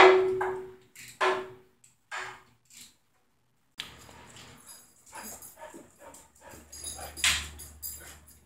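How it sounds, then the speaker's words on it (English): A dog in a garage where a Ford 302 engine is being torn down whimpers and yips in short bursts, close and fairly loud, with a pause followed by clattering and shuffling. "Dog, what are you doing, dog?"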